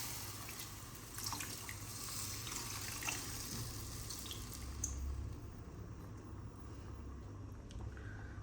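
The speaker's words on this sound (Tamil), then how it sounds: "புளி தண்ணியை அதையும் அப்படியே ஊற்றிக்கணும்." Tamarind water is poured into a pot of fish curry, a soft steady trickle and splash heard faintly and close by, with some background hum and no talking.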